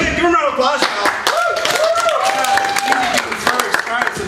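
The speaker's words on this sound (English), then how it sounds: "Come on in, give them a round of applause." An audience at a classroom game show claps for arriving contestants, a steady mix of hand claps running under voices that talk and cheer throughout.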